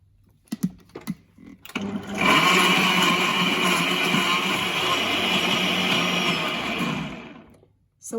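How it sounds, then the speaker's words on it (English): An electric blender whizzes a thick fruit mixture for island-style ice poles, with a few handling knocks first, then one loud sustained whirring run of about five seconds that stops abruptly. "so we're going to put the lid on now and give it a quick whiz"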